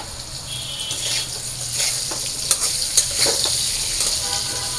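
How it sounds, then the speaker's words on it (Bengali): Potatoes fry in hot oil with turmeric and salt, a loud, steady close sizzle with soft stirring and a couple of sharp spatula taps midway. "এখন আমি আলুগুলো একটু লাল লাল করে ভেজে নেব"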